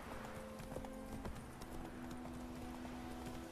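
Horse hooves clip-clop at a steady trot in The Witcher 3: Wild Hunt, close and quiet, with a faint tonal hum running underneath.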